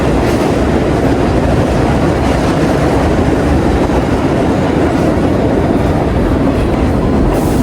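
Train in New York rumbling loud and close, a dense continuous roar of wheels on rails with faint clickety-clack beats and no pauses, no voices over it.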